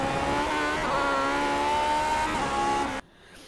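In the iRacing sim, a Lotus 49 engine howls loud and steady at high revs, likely pinned near the limiter, then cuts off abruptly to near quiet after about three seconds.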